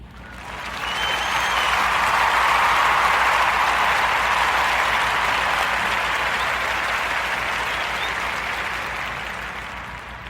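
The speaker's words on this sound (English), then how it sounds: "Round of applause for problackhealth.com" A podcast audience gives a sustained round of applause for guests, loud, dense clapping and some cheering that swells quickly and holds steady for about nine seconds before easing slightly.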